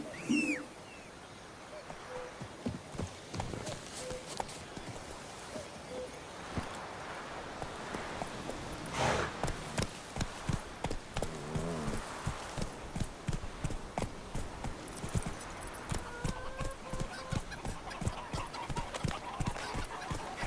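A horse gallops in The Witcher, hoofbeats thudding in a fast steady rhythm through ambient game sound with birds and rustling, beginning after a short quiet start.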